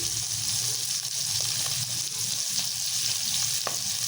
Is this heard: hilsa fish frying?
yes